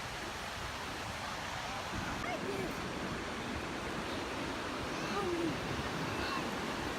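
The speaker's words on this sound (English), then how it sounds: "It's much colder and windier and cloudier on this beach today" Steady wind and surf roar on a cold, windy, cloudy beach at Oceano Dunes State Park, a broad, even wash of noise that stays fairly faint and continuous.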